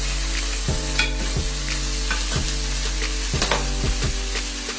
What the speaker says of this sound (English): Mix that together nicely.